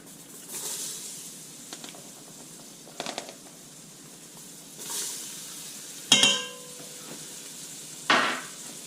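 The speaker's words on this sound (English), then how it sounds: "I'm going to add 2 cups of the chopped seasoning mixture." Chopped seasoning mixture hitting a hot pot for potato stew, a low background sizzle broken by a few bursts of stirring and two sharp hissing splashes near the end, no one talking.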